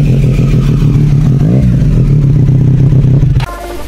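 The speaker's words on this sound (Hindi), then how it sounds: "This mighty bass is too loud. And this is the Triumph Speed Triple RS, the mighty beast." A Triumph Speed Triple RS motorcycle engine and exhaust rev loudly and up close in a steady, heavy drone with a brief rise in pitch, cutting off abruptly near the end.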